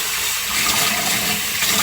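Water runs steadily from a tap over the roots of Denphal orchids being repotted, a continuous broadband splashing hiss with no voices.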